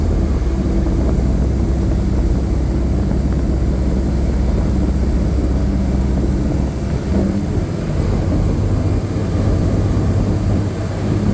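Volkswagen LT40 4x4 van with a 180 hp TSI engine and 8-speed gearbox, shifted in manual mode on a backroad so the revs drop; a steady loud engine drone with road rumble continues throughout, settling lower near the end.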